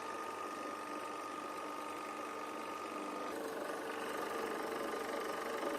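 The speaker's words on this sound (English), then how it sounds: "Start the recovery unit." A refrigerant recovery unit runs steadily, a faint continuous mechanical drone with a ticking, ratchet-like pulse and no change in level throughout.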